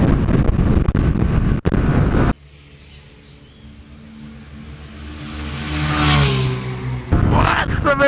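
A Honda Elite 125 scooter pulls away and accelerates, its engine note rising steadily over several seconds, heard close, with heavy wind rumble before and after the run.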